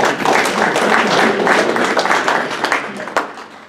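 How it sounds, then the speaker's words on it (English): A small training group gives a short round of applause, quick clapping that fades in under a few seconds. "Give him a round of applause, huh?"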